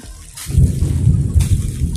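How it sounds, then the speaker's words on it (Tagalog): Thunder rumbles low and heavy during dark, rainy weather outdoors, a rolling, fairly close boom lasting a couple of seconds over steady rain noise. "Kumukulog-kulog."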